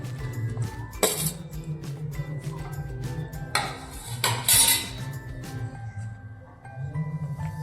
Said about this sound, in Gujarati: આમાં આપણે બધો મસાલો મિક્સ કરવાનો છે